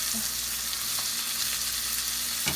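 Filet mignon steaks frying in a pan give a steady, loud broadband sizzle throughout, with a short scraping knock near the end, and no voices.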